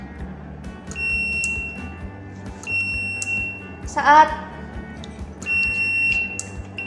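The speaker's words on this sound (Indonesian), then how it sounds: "buzzer akan menyala" An Arduino touch sensor triggers a buzzer wired through a relay for an OMRON CP1E PLC input, giving repeated steady electronic beeps in bursts of about a second, with someone talking quietly between them.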